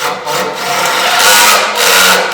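A battery drill with its bit boring into a hole just slightly smaller than the bit in a garage frame build, a steady whirring hum that rises and strains over a couple of seconds, close and fairly loud.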